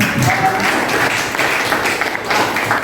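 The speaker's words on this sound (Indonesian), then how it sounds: "Tepuk tangan buat" Dense applause from a group, steady clapping throughout at fairly loud level.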